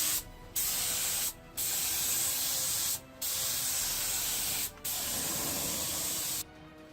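A spray coat is applied to a repaired wooden paramotor propeller in four steady hissing bursts of about a second or more each, separated by short pauses, close and fairly loud.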